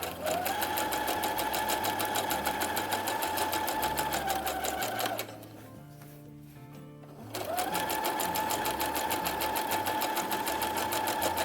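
A sewing machine stitches a seam on a Star Wars jumpsuit with a fast, steady mechanical whir close by, breaking off for about two seconds and then resuming at the same speed.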